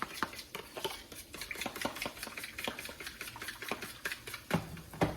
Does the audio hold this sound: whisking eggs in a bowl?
yes